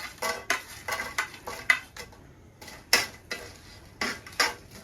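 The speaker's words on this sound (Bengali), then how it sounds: "এখন মশলাগুলো শুকনো কড়াই ভেজে নেব। প্রথমে দিয়ে দিব শুকনো মরিচ।" Dry red chillies roast in a dry wok for a sour-sweet-spicy chalta chutney, with a spatula clinking and scraping against the metal in a steady rhythm of about ten sharp knocks, close and fairly quiet.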